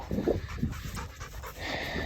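Gun dog panting after retrieving antlers: quick, rhythmic breathy pants close to the microphone, steady for about two seconds, no talk.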